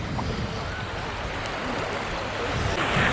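Surf washes in a steady, broad rush at Mount Martha Beach on the Mornington Peninsula on a hot New Year's day, with the sound swelling slightly toward the end and no voices.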